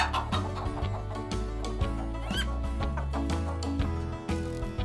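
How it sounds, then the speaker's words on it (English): A chicken clucks in short repeated bursts over a bouncy children's music track, the clucks faint and partly buried under the steady rhythm. "It's a chicken."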